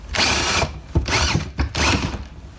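A hole saw with its center pilot drill removed cuts into a surface, a loud, harsh grinding whir in uneven bursts as the saw chatters and skates around without a center point.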